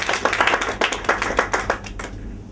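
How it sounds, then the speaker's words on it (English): An audience at a university workshop visit applauds the professor, a small crowd's quick, uneven claps close by and fairly loud, fading slightly toward the end. "I think for that your professor deserves an applause."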